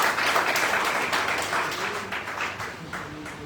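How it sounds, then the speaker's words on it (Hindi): Audience applause at a business seminar on network marketing, a steady wash of many hands clapping that holds for several seconds and tapers slightly, with no speech over it. "तो मैं एक बार जोरदार ताली चाहूंगा सभी भाई साहब लोगों के लिए।"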